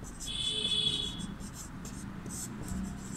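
Chalk or marker scratching on a classroom board while Sanskrit words are written, a close, steady scraping stroke with some quieter marks and faint background noise.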